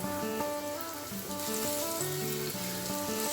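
Raw banana slices drop one by one into hot oil over a medium flame, frying with a steady, close sizzle and bubbling throughout. Tonal background music plays over it.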